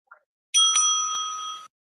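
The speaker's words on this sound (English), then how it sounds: "For reply speech, the timekeeper will ring the bell once" A timekeeper at a debate rings a bell once, a single bright, clear ring that sustains for about a second with nothing else around it.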